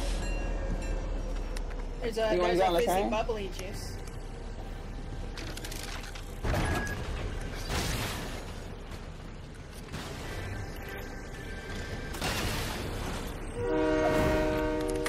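A train in the video game Fortnite rumbles past with several long, loud horn blasts spread through the scene, while players talk excitedly over it.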